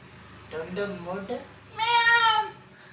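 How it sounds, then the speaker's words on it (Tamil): A cat meows twice near the microphone in a home. A shorter, wavering call is followed by a louder, drawn-out meow. "கத்துக்கிறா பூனை"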